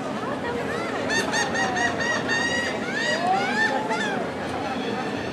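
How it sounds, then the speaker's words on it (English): Geese and other seaside birds honk and call repeatedly through a summer boardwalk crowd, with a steady hubbub of distant voices beneath the overlapping calls. "Lots of birds."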